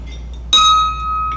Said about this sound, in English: I didn't ring the bell yet, but I shall do that right now